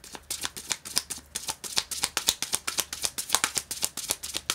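Tarot cards are riffled and shuffled in a quick, rhythmic run of crisp papery flicks, close and clear, with no talking over them.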